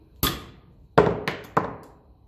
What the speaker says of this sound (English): one tap of the hammer should get it back in.